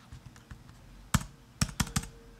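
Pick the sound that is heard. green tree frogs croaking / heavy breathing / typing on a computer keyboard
typing on a computer keyboard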